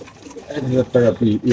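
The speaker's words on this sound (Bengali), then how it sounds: "দর্শক আমরা আরেক জোড়া কবুতর দেখাচ্ছি" BRPFR racer pigeons coo inside a cage, giving low, throaty rolling calls in several short bursts close by, with a person talking over them.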